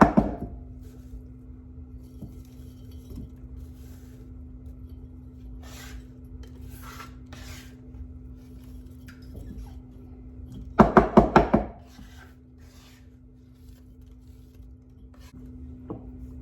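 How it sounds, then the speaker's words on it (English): Sprigs of rosemary set into a glass jar, giving soft knocks and rubbing handling noises, with a brief cluster of sharp clinks near the end against a steady low hum. "just place the rosemary in the jar"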